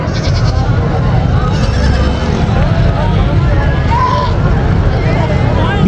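Goats and some dyed sheep bleating amid a busy goat market crowd, their calls rising over constant loud chatter and background babble.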